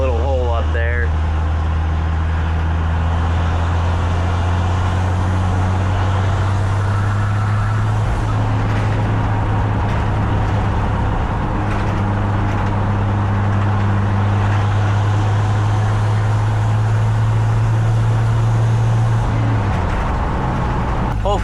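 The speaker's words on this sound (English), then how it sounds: "we're just gonna go ahead and keep driving because this thing's actually running pretty good" Ford F100 pickup fitted with a 5-speed transmission drives along, its engine a steady low rumble under constant road noise for the whole stretch, with a voice heard faintly at moments.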